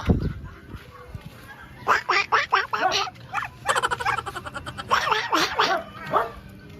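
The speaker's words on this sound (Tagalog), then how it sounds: "Daming pato." Ducks quack repeatedly in noisy bursts, several birds close by in a rural yard with chickens, with some dog-like barking mixed in and a sharp sound at the start.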